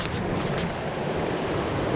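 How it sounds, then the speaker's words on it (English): The Kern River running at full height, a roaring, raging rush of whitewater heard close and loud as a steady broadband wash with no talking. "I'm down by the Kern River, which is at full height, is raging, and it's looking beautiful."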